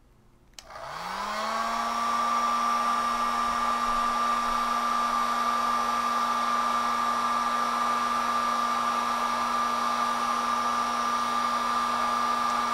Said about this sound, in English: I'm using this heat gun